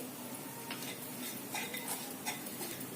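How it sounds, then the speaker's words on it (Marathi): A spoon stirs and scrapes a pawta bean bhaji mixture seasoned with salt and jaggery in a pan, giving soft repeated scrapes and taps over a faint, steady hiss, quiet and close. "सर्व मिश्रण छानस परतून घ्यायचं"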